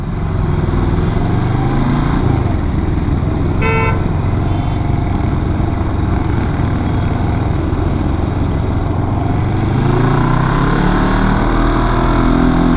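A Royal Enfield Himalayan 400 parallel-twin motorcycle engine runs close by at a steady, loud hum with low throbbing tones, a brief horn toot sounding partway through.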